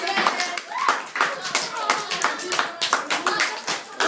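Classroom of students clapping for a classmate during a maths lesson, a brisk scattered round of hand claps with some voices mixed in.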